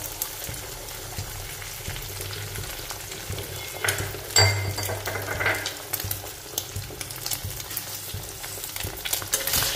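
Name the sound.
egg frying in oil in a pan, being stirred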